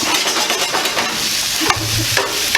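Shrimp sizzle steadily in a nonstick pan, a loud, close frying hiss that runs throughout with a few scraping stirs and taps.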